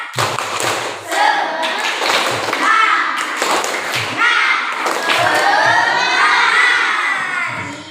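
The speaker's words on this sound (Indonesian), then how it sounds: "Kita tepuk semangat dulu." A classroom of children performs a spirit clap, striking their hands and thumping in a rhythmic pattern while chanting and shouting together. The sound is loud and close, with a teacher's voice also present.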